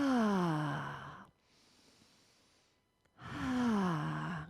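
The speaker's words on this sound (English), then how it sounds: "Take a few rounds of deep diaphragmatic breaths." Two long, deep diaphragmatic breaths let out as voiced, sighing exhales, close and fairly loud, separated by a quiet, airy inhale.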